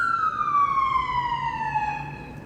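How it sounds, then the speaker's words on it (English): A police or ambulance siren wailing on the street, one loud sustained tone sliding slowly downward as it passes, with traffic rumble underneath. "Cops, police, ambulance."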